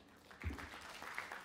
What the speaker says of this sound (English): a louder round of applause, please